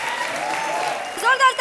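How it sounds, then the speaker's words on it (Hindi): Audience applause on a Hindi comedy show, a steady wash of clapping with musical tones and a voice rising over it toward the end. "जोरदार तालियां"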